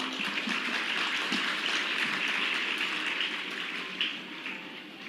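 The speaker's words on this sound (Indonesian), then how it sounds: "Jadi tepuk tangan untuk NTT semuanya." Dense, steady applause from a large audience at an Indonesian public talk on maritime affairs, a continuous wash of clapping heard at moderate distance with no speech over it.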